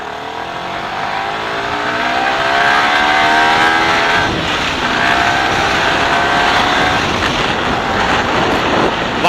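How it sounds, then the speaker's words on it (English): A Yamaha R15 V3 motorcycle's high-revving engine screams loudly and continuously, its pitch climbing and wavering as the revs rise and hold for several seconds, with no talk over it. "it is a high revving engine"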